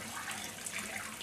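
Water from a large pump spills down the waterfall wall of a small, natural-style koi pond on a home terrace, a steady, close, hissing rush with no talk.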